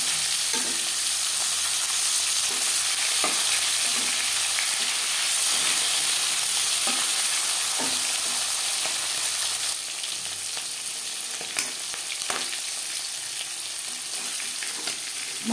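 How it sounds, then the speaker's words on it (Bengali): Pieces of tuna fish fry in a pan with a constant loud, crackling sizzle, marked by occasional small pops and light stirring clicks, with no talk. "আমি মাছ হালকা করে ভেজে নিলাম"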